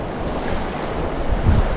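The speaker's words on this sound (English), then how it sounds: "Crazy windy here." Strong wind buffets the microphone in a steady roar on the beach at Honeymoon Island, with surf rumbling underneath and a heavier gust near the end.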